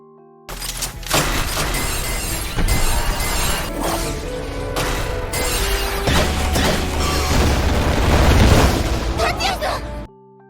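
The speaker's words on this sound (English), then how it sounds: "Even though he managed to avoid it, Tatsuya was blown away by the explosion" A powerful attack in an anime battle sets off an explosion: a loud, dense roar of bursting and shattering noise that fills about ten seconds, mixed with crashing debris and other effects.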